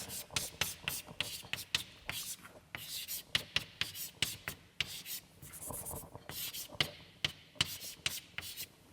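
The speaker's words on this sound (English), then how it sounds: "so I'll write it down" Handwriting on a board or paper comes as a busy series of sharp scratchy strokes and taps, close and fairly loud, with brief pauses between the bursts of marks.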